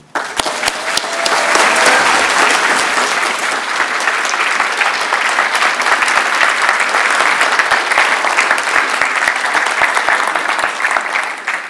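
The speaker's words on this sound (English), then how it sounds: "please, a round of applause for David Braben" An audience at a gaming expo presentation breaks into sustained applause, a dense, steady wash of clapping that holds for about ten seconds before tapering off.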